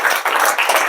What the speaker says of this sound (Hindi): तो एक बार उनके लिए भी ताली बजा दी।